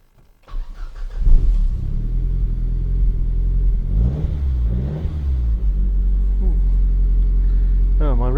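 A car engine cranks and catches after a push-button start, then idles with a steady rumble and is revved, climbing sharply near the end; a voice talks briefly over it.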